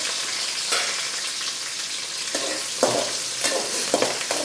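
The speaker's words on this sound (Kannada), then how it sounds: "ಇವಾಗ ಇದಕ್ಕೆ ಹಸಿಮೆಣ್ಸಿನ್ಕಾಯಿ ಕರಿಬೇವು ಜಜ್ಜಿಟ್ಕೊಂಡಿರೋ ಬೆಳ್ಳುಳ್ಳಿ ಹಾಕ್ಕೊಂಡು ಚೆನ್ನಾಗಿ ಫ್ರೈ ಮಾಡ್ಕೋಬೇಕು" Green chillies, curry leaves and crushed garlic fry in hot oil with a bright, continuous crackling sizzle, broken by several stirring scrapes against the pan, close up and with no voices.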